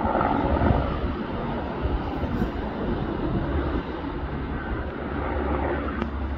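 A helicopter carrying a slung cargo load flies over the Everest Base Camp trekking trail between Debuche and Dingboche in the Nepal Himalaya, heard as a steady, broad rumbling drone that holds evenly throughout with no voices.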